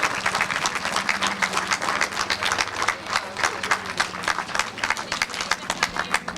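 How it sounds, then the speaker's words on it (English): Applause for the winning driver at a British Kart Championship final, a crowd clapping steadily and densely throughout, with a faint announcer voice underneath. "Please give a huge round of applause for the number 52 for Oliver Rowland Motorsports"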